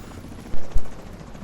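Helicopter in the video game The Division 2: a loud, steady roar of rotor and engine noise, broken midway by two heavy thumps close together, with no talking.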